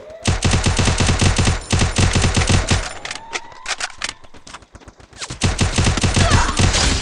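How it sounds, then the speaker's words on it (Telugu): Rapid, loud automatic gunfire from Free Fire, a video game, rattling in fast continuous bursts, pausing briefly midway before resuming with renewed volleys; no speech over it. "ఆపోజిట్ లో ఎవరైనా స్నైపర్ గన్ ఏమైనా యూజ్ చేస్తున్నారు"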